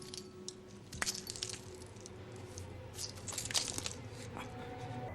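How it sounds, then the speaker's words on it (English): Footsteps crunch over broken glass in a scene from the film Tank Girl, giving scattered gritty crackles and a few sharper cracks over a low, steady background bed. "He makes him walk through a bunch of broken glass."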